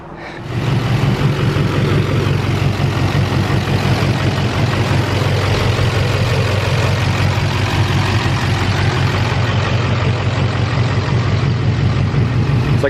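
A diesel work truck engine idling with a steady, loud low rumble and a constant clattering texture, unchanging from start to finish with no voices.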